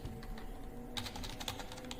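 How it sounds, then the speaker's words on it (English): Keys clatter on a computer keyboard as a title is typed into database options, soft and steady at first, then a denser run of sharper, closer keystrokes over a constant low hum. "Here you choose Current Database, type the title."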